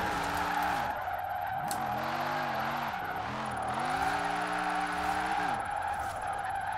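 Car tires skid and slide in Forza Horizon 4 as a Holden with too much torque drifts: a steady loud tire squeal over a revving engine whose pitch rises and falls through the slide.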